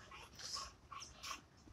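Young American Bully puppies whimper and whine in soft, high-pitched bursts, several short cries close by and faint, with no talking.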